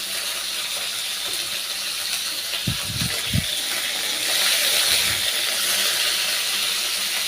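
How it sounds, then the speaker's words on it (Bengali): Bitter gourd frying in oil in a hot wok, a continuous loud sizzle and hiss, with a few brief clunks of the pan partway through and the sizzle swelling toward the end. "প্রথমে উচ্ছেটা দিচ্ছি, উচ্ছেটা একটু ভেজে নিই"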